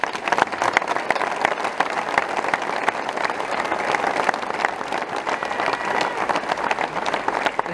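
A crowd at a hunters' rally outside a prefecture in France applauds steadily, with dense overlapping clapping that stays even and sustained from start to finish.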